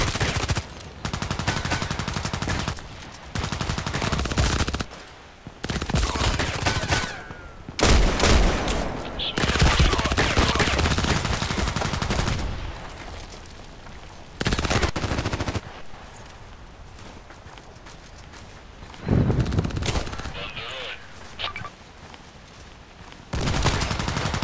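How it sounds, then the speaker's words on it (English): Gunfire in the video game Contract Wars, loud close bursts of rapid automatic shots and single reports coming in repeated volleys with short silent gaps, while a player's voice talks over parts of it. "I'm being shot at."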